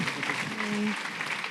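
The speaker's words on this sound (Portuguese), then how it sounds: "Aplaude ao Senhor Jesus." A church congregation at a worship service breaks into a short burst of steady applause, dense and moderately loud, with a brief voice heard under the clapping.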